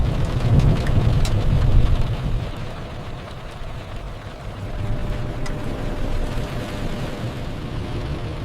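Steady rain pours during a thunderstorm, with deep rumbling thunder strongest in the first two seconds and a constant hiss of falling water carrying on beneath, close and moderately loud.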